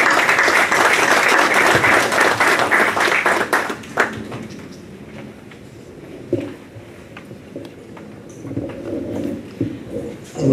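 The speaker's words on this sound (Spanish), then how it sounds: "a quien recibimos con un aplauso" Audience applause welcoming the engineering school dean at the opening of an engineering week event, loud, dense clapping for about four seconds that then fades to scattered claps and room noise.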